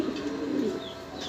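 A pair of teddy pigeons coo softly in a steady, low murmuring run, close by with faint background chirps and no talk.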